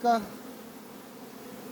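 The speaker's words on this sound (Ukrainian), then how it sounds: "бджолки гудуть" Honeybees buzz at an open hive during summer honey harvesting and mite treatment, a low steady hum that carries faintly through the whole moment after a brief louder sound at the start.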